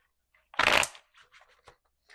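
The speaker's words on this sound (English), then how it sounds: "one last shuffle because these things are not trying to shuffle for me" Tarot cards riffle in one quick, loud burst, followed by several softer taps and shuffles as the deck is squared up, close and without talking.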